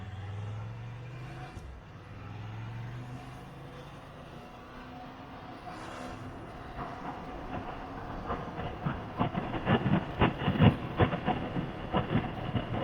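A Ducati Scrambler Icon motorcycle engine on a test ride drones low and smooth at first. It then rises into a louder, rougher rumble with rapid pulsing knocks as the revs climb, and no voices are heard.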